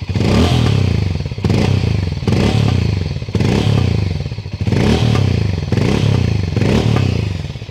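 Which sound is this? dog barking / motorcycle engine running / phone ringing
motorcycle engine running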